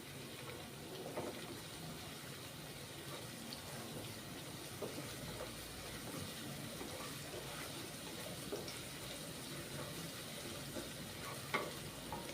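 Chopped onions and chillies frying in a pan for dragon potato, a faint steady sizzle with light stirring clicks, no voices.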